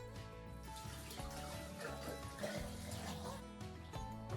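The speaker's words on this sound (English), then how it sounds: "So I'm gonna put water in the drain" Water poured into a bathtub drain while testing a newly built off-grid shower setup, a steady continuous splashing and trickling that stays loud and close for the whole stretch, with no talk.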